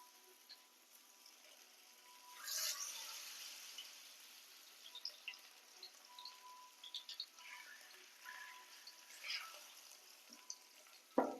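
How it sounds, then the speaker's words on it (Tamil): Masala-coated fish frying in hot oil, with a quiet bubbling sizzle that swells into louder crackling bursts as pieces go in, ending with a sharp clatter. "இப்போ நம்ம வந்து கிழங்கா மீன் போட்டு மசாலா போட்டு வச்சுருக்கோம், அதை அப்படியே போட்டுக்கலாம்."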